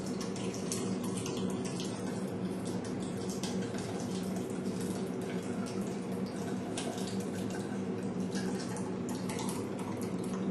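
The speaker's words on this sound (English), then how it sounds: "Now what we're going to do is just pour it over." A thick baked bean mixture is poured into a dish, giving a steady, continuous wet pouring and splattering sound close by with no voices.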